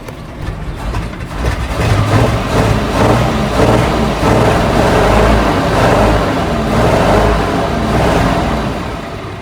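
A 1976 Chevrolet Squarebody truck engine idles steadily and loudly up close, a low rumbling drone with a slight uneven pulse, running after sitting for 20 years, with no talk over it.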